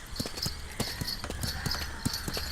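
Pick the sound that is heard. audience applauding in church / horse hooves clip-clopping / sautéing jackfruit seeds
horse hooves clip-clopping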